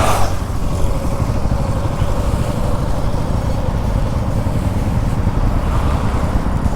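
Steady, loud engine and road noise from a Sunday group motorcycle ride from Bangalore to Kanakapura, with many bikes including a white Cub, running continuously without pauses and with no talk.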